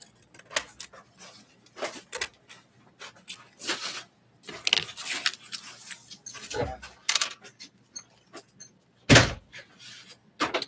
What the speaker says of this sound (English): why did he slam the door?